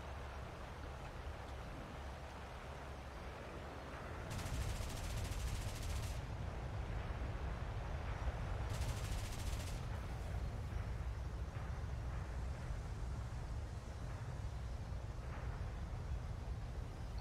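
Machine guns firing from a bomber's gunner positions in War Thunder, as two short, faint bursts of rapid fire over a steady low engine drone.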